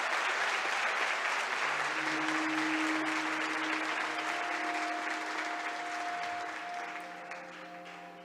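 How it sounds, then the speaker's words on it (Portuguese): A church congregation applauds loudly in worship, thick sustained clapping that runs strong for most of the stretch before gradually thinning and fading near the end, with soft sustained keyboard tones beneath. "Você pode aplaudir mais forte o Senhor?"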